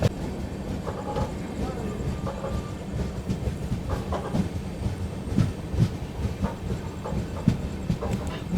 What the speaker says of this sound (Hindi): चलिए दोस्तों अपनी ट्रेन पहुँच रही है हारमती जंक्शन रेलवे स्टेशन पर